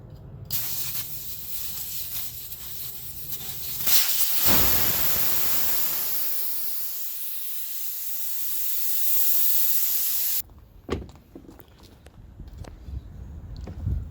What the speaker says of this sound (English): So you just put diesel around the bead.